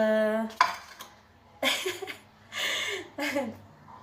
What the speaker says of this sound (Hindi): अब हम धोने लगे हैं बर्तन